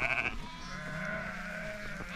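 A flock of sheep being moved from the sheepfold to pasture in Corvinești, Romania, bleats repeatedly, with overlapping near and farther calls over a low rumbling outdoor background.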